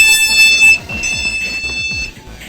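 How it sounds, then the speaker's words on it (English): A loud, high, steady electronic door alarm tone sounds on a Class 458/4 train, holding for about two seconds before stopping, close up with no talk over it. "One criticism that has been around with the 458 was the slightly loud door alarms"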